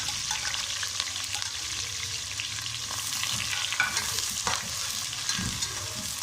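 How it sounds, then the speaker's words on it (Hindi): Onions frying in hot oil for a homemade biryani give off a steady, close hiss with crackles and occasional stirring scrapes, and nobody speaks. "तेल गर्म हो चुका है, तो अंदर हमें सबसे पहले प्याज फ्राई करने हैं"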